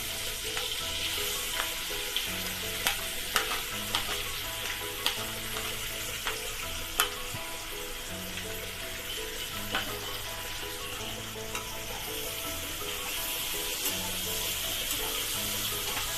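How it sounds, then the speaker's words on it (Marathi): Chopped onion fries in a spiced masala with coriander powder for vegetable biryani, giving a steady, close sizzle throughout. Faint scrapes of stirring come through now and then, and no one speaks. "कांदा चांगला लाल होईपर्यंत भाजून घ्यायचा."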